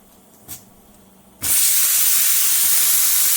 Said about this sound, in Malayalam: നമ്മുടെ കുക്കറിൻ്റെ രണ്ടാമത്തെ വിസിലാണ് കേൾക്കാൻ പോണത്.